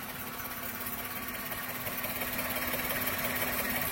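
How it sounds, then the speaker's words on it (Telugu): A 2013 Maruti Suzuki WagonR VXI petrol engine idling, a steady, quiet mechanical hum with a faint even hum and rattle, heard close and continuous without any voices. "ఇంజన్ అయితే రన్నింగ్లో ఉంది."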